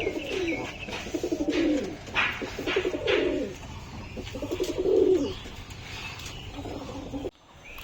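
Pigeons cooing in repeated rolling bursts, several overlapping calls close by, with a brief pause before the last one.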